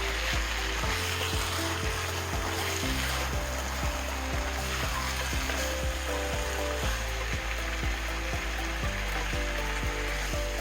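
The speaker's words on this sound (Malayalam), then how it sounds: "ഒരു 1/4 കപ്പ് വെള്ളം ഒഴിക്കുക." Chicken biryani masala sizzling steadily in a pan after about a quarter cup of water goes in, a continuous hissing bubble with no voice over it, while music plays underneath.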